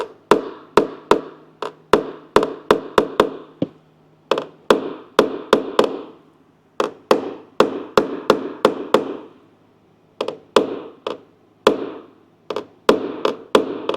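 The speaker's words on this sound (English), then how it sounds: "So all I'm using the blending hammer here for is some of these little waves and shoulders" A blending hammer taps hail dents in a metal car rail in quick bursts of sharp, ringing strikes, a few seconds of steady blows at a time with short pauses between, close and fairly loud.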